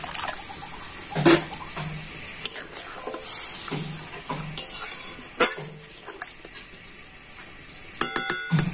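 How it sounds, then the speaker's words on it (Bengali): Hot water goes into a pan of rice fried with spices, pumpkin dish in progress: sizzling and hissing bursts with stirring, spoon and pan clinks, close by. "এবার আমি দিয়ে দিচ্ছি গরম জল।"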